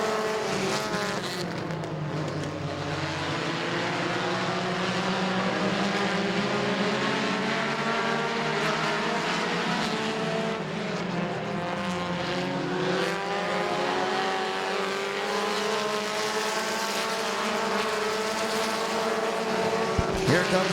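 Race cars roar around the Midvale Speedway oval, a loud continuous drone of several engines with rising and falling pitch as they pass close by, no talk over them.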